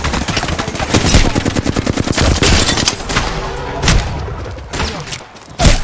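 Rapid automatic gunfire from the Call of Duty: Modern Warfare II video game, loud and sustained bursts of shots rattling almost continuously, with a heavy thump near the end.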